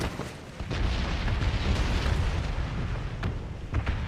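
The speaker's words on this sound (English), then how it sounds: "mortars coming in on us" Mortar shells rain down in the battle-royale shooter PUBG, a continuous rumble of heavy booms and bursts with sharp impacts near the end, loud and close, with no talking over it.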